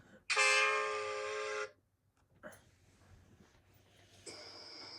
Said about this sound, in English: It's a new invention, a railway foghorn, said Sir Topham Hatt.